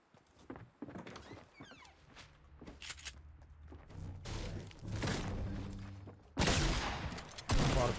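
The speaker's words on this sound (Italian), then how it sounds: "sta tirando queste granate?" Grenade blasts in Fortnite gameplay, several loud booming bursts and thuds arriving in succession, the heaviest near the end, mixed with muffled game effects and no speech.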